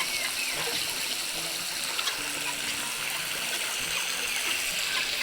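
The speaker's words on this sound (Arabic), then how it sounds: "انا بملى لهم الطبق دوت" Steady running water splashes and trickles continuously into a dish for geese, fairly loud and close, with no talking.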